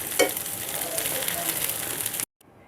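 Fish frying on a flat tawa in a home kitchen, giving a steady, dense sizzle that crackles throughout and then cuts off abruptly near the end.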